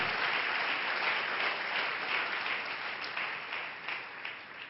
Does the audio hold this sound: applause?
yes